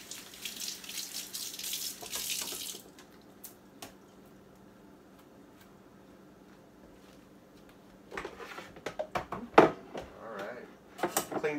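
Water runs into a kitchen sink while celery juice is being made: a hissing rush from a tap for a few seconds, then near quiet, then splashing and clattering handling sounds nearby.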